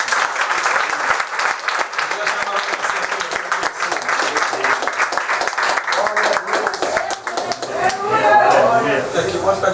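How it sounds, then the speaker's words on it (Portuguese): Church congregation at a Pentecostal deliverance service applauding, a dense, loud wash of clapping with shouts and voices mixed in that swells toward the end. "Aplauda Jesus, igreja."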